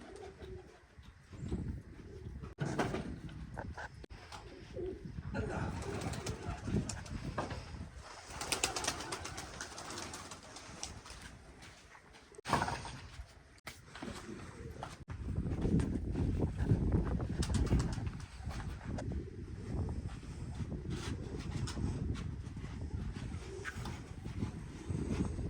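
Pigeons coo steadily inside a pigeon room, with soft repeated calls from several birds close by, over rustling, wind-like noise and occasional bumps and scrapes.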